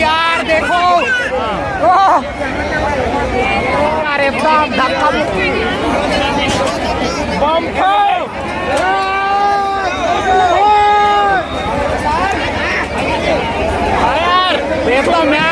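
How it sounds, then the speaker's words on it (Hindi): A dense, noisy crowd packs a Kali Puja fair, with many overlapping voices forming a loud, continuous hubbub close by that never lets up. "पूरा खतरनाक भीड़।"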